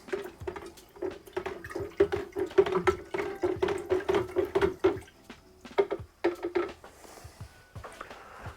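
A big spoon is stirred through a hefeweizen brew in a bucket, with rapid, rhythmic clinking and sloshing strokes, close and busy, that slow and trail off near the end.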